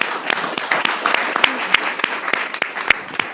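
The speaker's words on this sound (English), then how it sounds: "Will you all give our candidates a round of applause" A room at a chamber of commerce candidate forum applauds the candidates, with distinct sharp claps from a modest crowd standing out over a steady patter, close and fairly loud.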